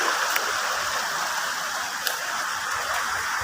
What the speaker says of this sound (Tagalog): May bukal dito guys